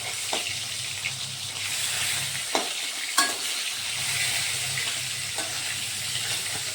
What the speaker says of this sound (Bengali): রুই মাছটা একটু ভালো করে ভাজতে হবে